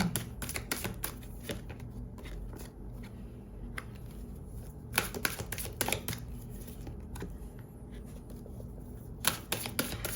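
Oracle cards being shuffled for a tarot reading, with steady close papery riffling and flicking that rises into denser bursts of crisp slaps, continuous throughout with no talking.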